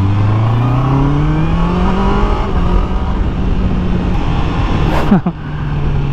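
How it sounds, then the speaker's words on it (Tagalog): A 2024 Honda CBR 650R E-Clutch motorcycle pulls away in first gear, its engine note rising steadily and loud close up before a brief wind buffet and a settle back to a steady drone. "first ride natin sa 2024 CBR 650R E-clutch. You know, first gear."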